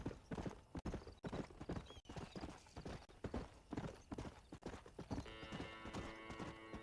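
Horse hooves clip-clopping in the 360-era game Red Dead Redemption, a brisk, even run of loud hoofbeats close up, with a few sharp dropouts and a faint tonal hum entering near the end.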